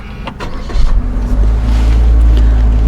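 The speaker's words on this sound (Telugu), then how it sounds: "ఒకసారి బండి ఆన్ చేస్తా." A Maruti Suzuki Victoris ZXI+ automatic starts up, with a few clicks and a rising whir, then a steady low engine idle heard close from inside the cabin.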